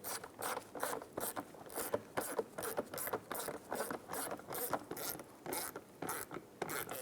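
Fog light mounting screws on a Cadillac SRX are tightened by hand with a ratchet, giving a rapid, even series of clicking strokes, close and distinct, with no talk.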